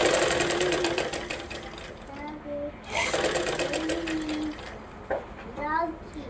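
A sewing machine stitches a lined blouse with a steady, close whirring hum that dips and resumes while a voice talks over it throughout.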